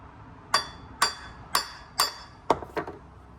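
A hammer gently tapping a VW Mk1 diesel water pump, giving five evenly spaced, ringing metallic knocks followed by a lighter quick tap, close and alone.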